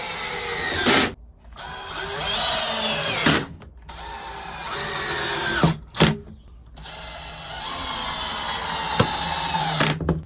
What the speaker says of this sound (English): And then we're going to screw all the way down.